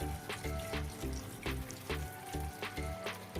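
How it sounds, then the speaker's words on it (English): Steady crackling and bubbling of cauliflower deep frying in hot oil in a pan, close up, with a few soft clinks and splashes mixed in. "placed the gobi one by one in the pan"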